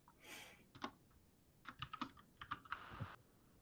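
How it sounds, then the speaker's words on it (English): Quiet keyboard typing in uneven bursts of clicks, close by, with a short pause before a quicker run of keystrokes. "Sorry, I feel loud typing."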